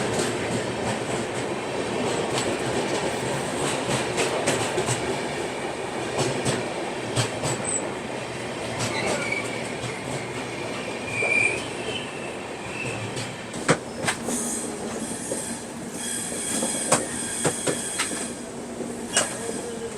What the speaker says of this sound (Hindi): तो अभी अपनी ट्रेन निकल चुकी है काजीपेट जंक्शन से।